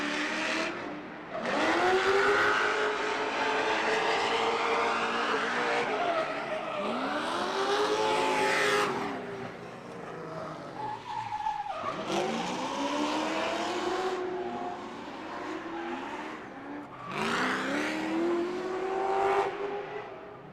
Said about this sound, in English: That is Josh Leatherbarrow in that big LS-powered BMW 135i